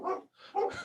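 A dog barks a few times, two or three short, rough barks close together, moderately faint.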